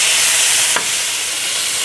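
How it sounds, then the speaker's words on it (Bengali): Pointed gourd pieces fry in hot oil in a pan while being stirred, a loud, close, continuous sizzling hiss with a brief scraping stir near the start and no talking. "পটলগুলোকে ভালো করে নাড়িয়ে এপিট ওপিট দুই পিঠই ভালো করে ভেজে নেব।"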